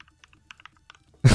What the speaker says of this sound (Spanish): en realidad no estáis escuchando el teclado. Es una simulación.